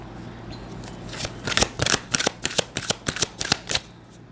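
Tarot cards are pulled and flicked from a deck up close, a string of crisp papery snaps and slides, speeding into a regular run of about a dozen quick strokes over a few seconds.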